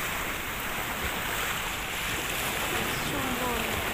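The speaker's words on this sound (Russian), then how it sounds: "Шум моря." Continuous rush of sea surf at Mersin, a steady broad wash of waves with some wind noise over the microphone.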